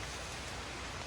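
Dense, even hiss of rain falling outdoors at Hinaguan Nature Park, a steady close wash of drops with no voices.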